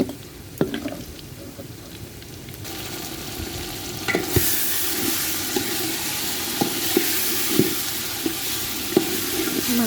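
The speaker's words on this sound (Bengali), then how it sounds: "মাংসটাকে খুব ভালো করে কষাচ্ছি।" Chicken for biryani being sautéed in a pan, a steady sizzle that swells louder partway through, punctuated by intermittent spatula scrapes and taps, close by with no talking.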